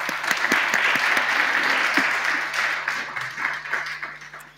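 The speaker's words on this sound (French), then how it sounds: "merci à tous les trois. On vous applaudit." At the HERITECH 2021 conference, an audience applauds three panelists. Clapping starts strongly with distinct near claps, then settles into a steady, slowly fading round of applause with no talk.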